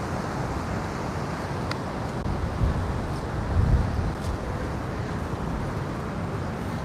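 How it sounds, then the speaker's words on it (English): Wind blowing at the seaside in Can Pastilla, Mallorca, a steady low rumbling buffet of wind noise against the microphone, swelling briefly in gusts, with faint distant traffic-like hum beneath. "after lunch the wind normally does pick up even more"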